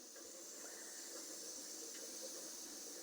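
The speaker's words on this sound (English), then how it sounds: "It's going to continue to release steam." Steam hisses steadily from a pressure canner after the weight is lifted off, a constant faint high rushing hiss with no pauses.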